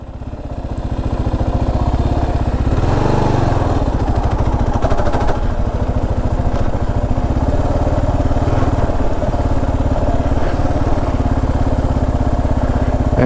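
Kawasaki KLR 650 motorcycle ridden off road, its single engine droning loud and close with a steady throttle and a brief rise in revs, continuous with no talk.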